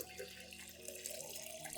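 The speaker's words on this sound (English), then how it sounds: "add 1 liter of clean water at room temperature to dilute the solution" Clean room-temperature water pours steadily into a plant-feeding solution, a continuous close splashing trickle throughout, with no talk.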